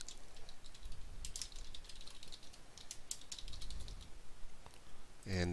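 Fingers type on a computer keyboard, a close, fast patter of light key clicks in irregular bursts across the whole stretch.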